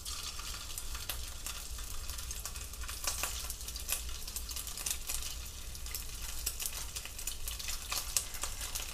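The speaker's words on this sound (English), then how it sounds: "now we're going to start by pan frying our Italian sausage." Italian sausage and vegetables, including carrots, pan frying with a steady, close sizzle and intermittent stirring scrapes throughout.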